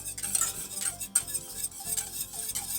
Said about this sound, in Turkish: bu şekilde sürekli karıştırmamız gerekiyor dibinin tutmaması için